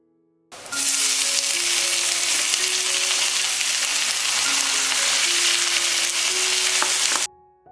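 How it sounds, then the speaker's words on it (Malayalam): Sliced onion hits a hot pan of frying ginger and garlic and erupts into a loud, steady sizzle that holds evenly for several seconds before cutting off abruptly, close up with no talking. "ഇനി നമുക്ക് സവാള ചേർത്ത് കൊടുക്കാം."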